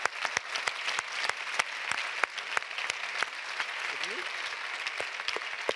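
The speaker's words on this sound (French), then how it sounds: "je vous demande un tonnerre d'applaudissements" Audience applause at the closing plenary of a conference forum, a steady dense wash of many hands clapping with sharp individual claps standing out, sustained throughout.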